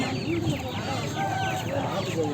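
Chickens in a backyard flock cluck and murmur in overlapping, fairly close calls over a steady background, with a person talking nearby.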